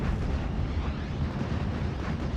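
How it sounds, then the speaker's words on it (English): Nebelwerfer rocket artillery firing in the Steel Division: Normandy 44 war game, a continuous dense roaring rumble of launches and blasts, loud and steady throughout with no pauses or voices. "Nebelwerfer firing away from Haymaker, just to prevent the infantry pushing for now."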